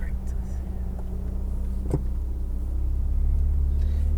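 A Ferrari 488 GTB with a twin-turbocharged engine holds a steady low rumble at a track, heard as a continuous drone that swells slightly toward the end.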